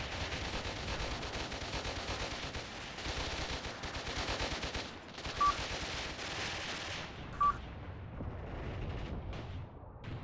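Intense gunfire in the Mius Front war game during a trench assault: dense, continuous rattling volleys of machine guns and rifles, close and loud, with brief lulls and two sharp beeps around the middle, no talk.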